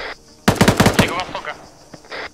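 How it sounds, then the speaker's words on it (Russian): A rapid burst of automatic gunfire rattles out loudly in the video game ArmA 3, followed by a couple of fainter, scattered shots. "На востоке выстрелы."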